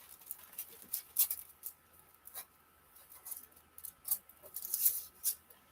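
Scissors cut a paper pattern piece off the sheet, a series of close, crisp snips and rustles in irregular bursts, growing busier toward the end, with no talk.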